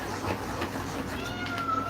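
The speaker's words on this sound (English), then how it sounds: "Kitty cat." A house cat meows during a livestream at home, a faint, thin cry rising above a busy background with household hum and low rumble.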